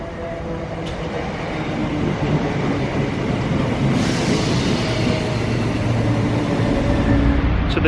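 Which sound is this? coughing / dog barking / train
train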